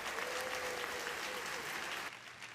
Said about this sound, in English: let's give him a big round of applause as we watch a video from him